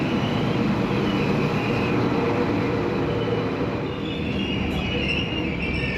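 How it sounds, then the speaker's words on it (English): A steady, loud rumble of an XPT express passenger train standing at a platform nearby, with continuous engine drone and a faint high whine over the top. "This is my train."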